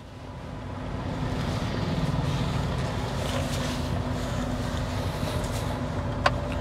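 A Mahindra Scorpio N 4x4 diesel SUV with automatic transmission crawls slowly off-road, its engine giving a steady low rumble mixed with rough rustling and wind noise, with one brief sharp click near the end.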